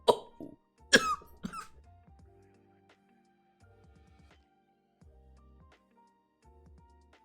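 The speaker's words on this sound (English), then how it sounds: "That was a lot of coughing." A person coughs hard in a quick cluster of loud, close, harsh bursts, then the coughing fades into a few faint throat sounds over quiet background hum.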